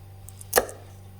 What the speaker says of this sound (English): So now take the top off from chillies